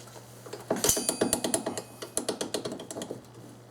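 A bolt is worked loose from the front timing cover of a 1995 Oldsmobile 3800 engine, giving a close, rapid run of sharp mechanical clicks in uneven bursts, like a ratchet being cranked.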